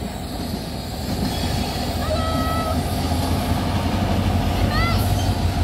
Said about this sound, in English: Hey, there's two trains!